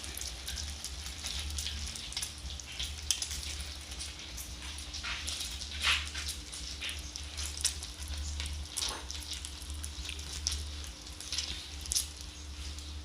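A Thai omelette frying until fluffy and crispy in hot oil gives a steady, dense crackling sizzle with a low hum underneath, close and continuous throughout with no talking.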